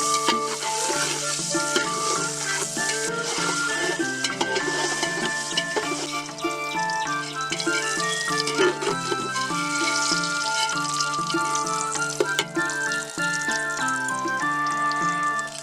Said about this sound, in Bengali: এবারে তেলে ডিমগুলো দিয়ে দেব।